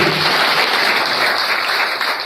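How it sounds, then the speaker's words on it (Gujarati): A crowd claps continuously in dense, steady applause at a swearing-in ceremony in a Vishwakarma temple in Rajkot, loud and sustained throughout with no voices rising above it. "આપણે સૌ આ તમામ મિત્રોને એક વખત જોરદાર તાળીઓથી શુભેચ્છાઓ પાઠવીએ."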